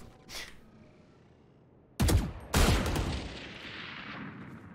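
Two loud gunshots ring out close together in a competitive shooter match, each a sharp crack with a long decaying tail, after a fainter earlier shot.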